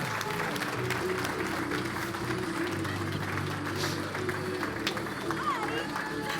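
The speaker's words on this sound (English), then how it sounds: "Give them a big round of applause." An audience at a live real estate stage event applauding and cheering as two guests come up, a steady roar of clapping and crowd noise with a voice talking over it.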